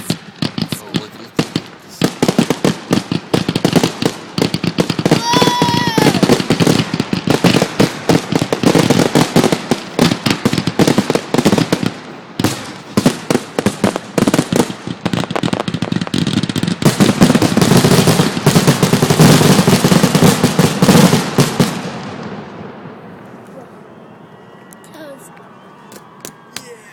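Fireworks bursting at a Bridgewater College display in Bridgewater, Virginia, a rapid crackling barrage of loud pops and bangs that builds into a dense volley, then fades to quiet; people talk and react nearby throughout.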